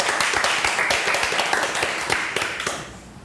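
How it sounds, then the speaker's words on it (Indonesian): A small studio audience claps for a guest in an Indonesian talk show, a brief burst of dense scattered hand claps that tapers off toward the end. "Boleh dong kasih tepuk tangan buat Dix Live."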